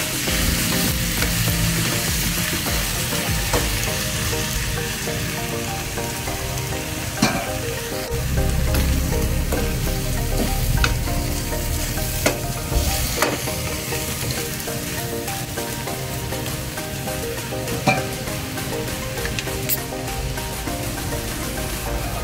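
Shrimp fry in a hot pan, making a loud, continuous sizzle broken by scraping stirring strokes and occasional sharper pops.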